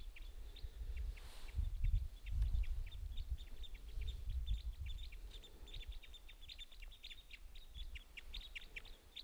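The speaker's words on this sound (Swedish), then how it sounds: "Det är domherrar. Jag såg den röda magen." Bullfinches flying past between trees give soft, repeated piping calls at moderate distance, faint over low outdoor rumble and wind.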